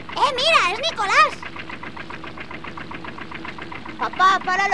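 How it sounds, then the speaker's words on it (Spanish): A steady, throbbing boat engine running at a fast idle in an animated series, its pulsing chug continuous throughout, with excited animated voices shouting over it at the start and end. "¡Papá, para los motores!"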